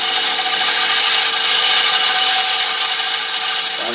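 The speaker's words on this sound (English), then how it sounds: "It's very hard Bradford pear, very dense grain, and I'm cutting into side grain" A scraper taking a light cut across dense, hard Bradford pear side grain on a wood lathe, giving a continuous bright, raspy scraping hiss, loud and close, with no voices.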